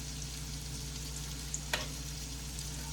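Shrimp and salmon frying in olive oil, oil spooned over them: a steady close sizzle that carries on throughout, with a brief clink of the spoon near the middle.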